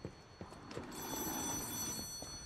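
A telephone rings in the video game Lies of P, a sustained electronic ring that swells in over a muffled game background of thuds and footstep-like knocks.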